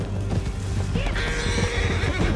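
A horse neighs loudly in Red Dead Redemption 2 during a frantic escape, the whinny rising over rumbling hoofbeats and action noise.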